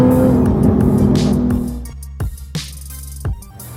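A Jaguar F-Type sports car engine driving, with a loud revving growl that drops away, followed by a few sharp pops or crackles over a quieter idle.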